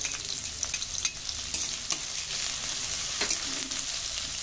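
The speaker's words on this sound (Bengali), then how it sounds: "দিয়ে দিচ্ছি কুচি করা আদা" Chopped ginger frying in hot oil gives a constant close sizzle with light crackles, and a few spatula scrapes and clicks stand out as it is stirred; no voices.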